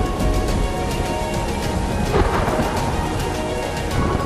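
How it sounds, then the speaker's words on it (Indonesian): A violent thunderstorm with lightning rolls on continuously, deep rumbling thunder layered over steady heavy rain, loud and enveloping with no voices. "Seketika langit berubah menjadi gelap, guntur kilat menyambar berkali-kali."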